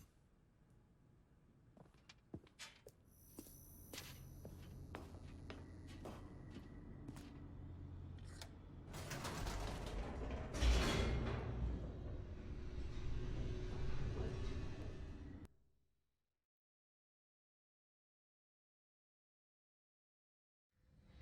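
An elevator descends in The Stanley Parable, a steady rumbling mechanical drone with scattered clicks that swells and grows louder, then cuts off abruptly into silence.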